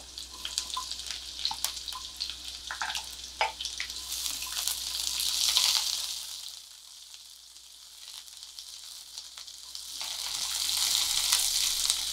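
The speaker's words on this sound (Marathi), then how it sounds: "कांदा हलका गुलाबी होईपर्यंत परतून घ्यायचे." Onion sautéing in a pan, cooked until light pink for a red pumpkin soup, gives a steady, close sizzle that eases off for a few seconds midway and then picks up again, with no talking.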